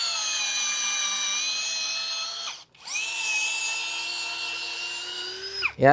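A cordless drill driver spins at its first speed setting, a steady high-pitched motor whine that runs for about two and a half seconds, stops briefly, then revs again and winds down.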